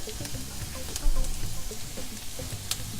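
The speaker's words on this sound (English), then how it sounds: "when they're nice and sizzling and you can see they've cooked a bit" Onions sizzling steadily in a frying pan while cooking a cauliflower pizza topping, a constant crackling hiss with faint clinks.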